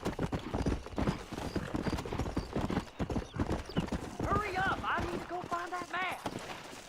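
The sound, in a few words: horse galloping and neighing, from video game Red Dead Redemption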